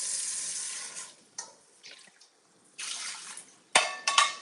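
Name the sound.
tap water filling a cooking pot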